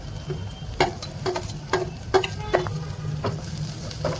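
Onions fry in a pan for a paneer gravy, a soft, low sizzle broken by several sharp taps and scrapes of a spoon stirring against the pan.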